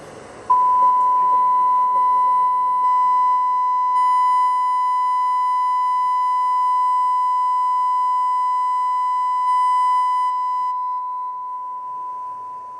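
A steady 1,000 Hz sine test tone played through a New Sound Digital EVOX 2 3000.1 mini amplifier, one loud continuous pure beep lasting about ten seconds before fading slightly at the end, with no talk.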